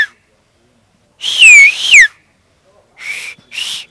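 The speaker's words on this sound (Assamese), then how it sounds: "আৰু মই এইটো হুইচেলটো চবেই দিব পাৰে" A young performer whistles at a temple gathering, loud and close: a long wavering bird-like whistle of about a second, then silence, then two short steady whistles in quick succession.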